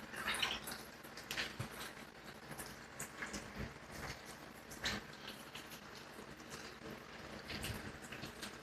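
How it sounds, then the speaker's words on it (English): Water trickles and drips steadily through a handmade resin fountain of trays and spheres, faint, close, irregular splashes with no talking. "I made a water fountain entirely of resin."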